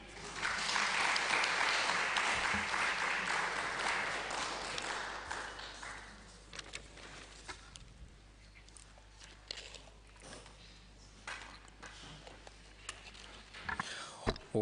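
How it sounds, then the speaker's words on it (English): Audience applause after a speech at an inquiry into IMF and World Bank policies. The clapping is steady and fairly loud for about six seconds, then thins out and fades into a quiet room with a few scattered claps. "Please clap for them again."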